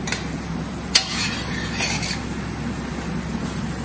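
Almond (badam) pieces being stirred into apple pie crust ingredients in a home kitchen: quiet scraping and rubbing, one sharp utensil knock near the start, then soft steady mixing.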